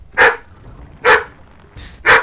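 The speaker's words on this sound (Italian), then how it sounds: "Mamma mia, che cane fastidioso." Three sharp, loud dog barks spaced roughly a second apart, each a short bright burst close to the listener, with quiet gaps in between.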